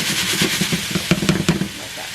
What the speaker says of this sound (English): I like to cook my onions down just a little bit before I add my celery